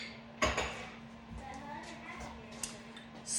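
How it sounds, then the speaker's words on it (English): A measuring cup is pulled from a kitchen cabinet, giving a sharp clack of dishes and cookware near the start, then softer knocks and a small clink, close and fairly quiet. "I need to get my measuring cup out of my cabinet."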